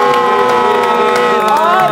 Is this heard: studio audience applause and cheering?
yes